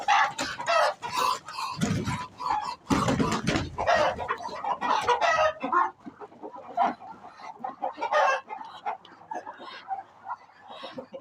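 Roosters crow and cluck loudly at a poultry sale, several birds calling in overlapping bursts at close range, with busier calls early and quieter clucking later.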